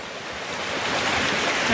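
A small forest stream in the Barda hills near Ghumli flows with a steady, close broadband rush that grows slightly louder throughout, with no voices.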